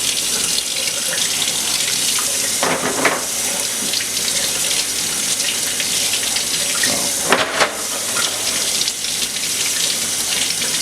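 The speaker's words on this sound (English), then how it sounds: "as you wash them, you'll see the dirt come off of them" Oysters are washed under a running kitchen tap, with water gushing steadily into a sink for about ten seconds and two brief louder splashes as the shells pass through the stream. No one speaks.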